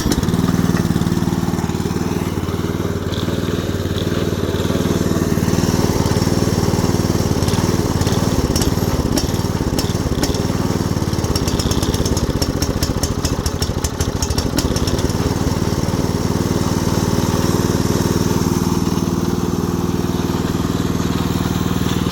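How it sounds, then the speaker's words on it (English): Gasoline garden tiller engine running in a real garden test, a loud, steady, buzzing small-engine drone that rises briefly as the tines work, heard close with no talking. "So that's the sound of the gasoline tiller."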